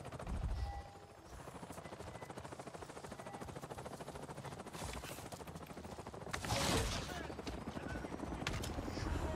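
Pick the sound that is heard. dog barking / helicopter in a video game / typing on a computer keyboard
helicopter in a video game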